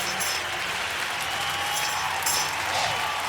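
Two people clap together, producing a dense, steady patter of hand claps that sounds like a larger crowd, sustained for a few seconds with no voices.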